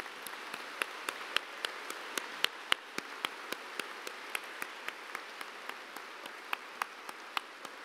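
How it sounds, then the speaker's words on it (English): At the 2017 Duke TIP Grand Recognition Ceremony, an audience applauds family members. Scattered individual claps ring out at a fairly even pace over a quiet, hushed room. "So stand up and clap for your family members"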